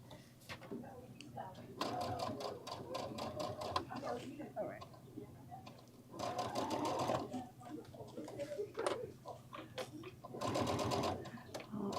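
A sewing machine fitted with a walking foot stitches a quilted garden lattice clutch bag, running in several steady bursts with pauses between, while someone talks over and between the runs.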